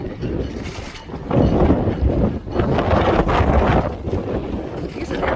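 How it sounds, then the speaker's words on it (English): Strong gusts buffet a docked boat in a windstorm, with choppy water slapping and churning nearby; the roar rises and falls in loud surges with heavy wind rumble on the microphone. "This is the water. You see it, but you can hear it."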